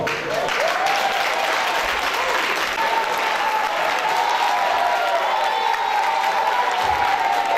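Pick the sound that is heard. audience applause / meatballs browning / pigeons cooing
audience applause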